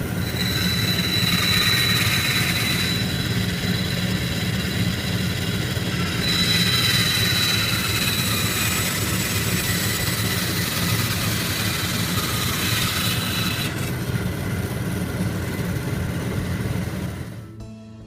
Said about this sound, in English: now using the bandsaw, or you can ask your instructor to cut around the circumference of your stock to rough cut the bowl